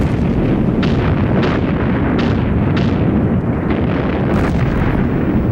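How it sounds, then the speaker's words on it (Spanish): Tremendous WWI artillery cannon salvo: a dense, continuous roar of booming gunfire with repeated sharp blasts rising out of the din, loud and sustained throughout with no voices. "en menos de 1 minuto se levantó la salva de cañonazos más tremenda que haya visto nunca"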